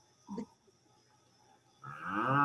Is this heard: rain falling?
no